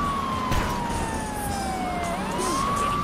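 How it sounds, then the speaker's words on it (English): Police car sirens in the video game GTA 3 wail loudly during a chase, one steady tone sliding slowly down and back up, over a constant hum of traffic and engine noise. "Sirens are loud."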